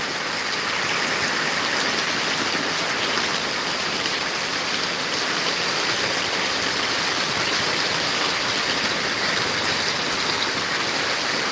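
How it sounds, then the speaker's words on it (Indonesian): Heavy rain pouring in Padang, a dense, steady broadband hiss that holds at an even, loud level throughout, with no voices. "Ya, kembali lebat hujannya."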